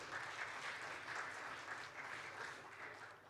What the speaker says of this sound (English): Can I hear a huge round of applause for Mr.